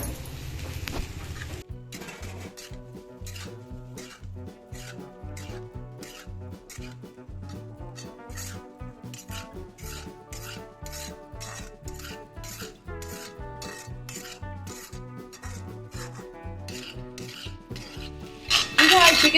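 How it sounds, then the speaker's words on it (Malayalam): Pieces of salted dried mango are tipped and stirred into pickle mixture in a metal pan, a steady series of scraping, rattling and clinking strokes repeating for the whole stretch, close and fairly loud, with no talk. "ഇനി നമുക്ക് ആക്കി വച്ചിരിക്കുന്ന മാങ്ങ ചേർക്കാം."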